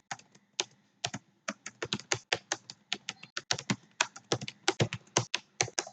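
Rapid, close computer keyboard typing while code is written, a steady run of crisp key taps with uneven spacing and no talking over it.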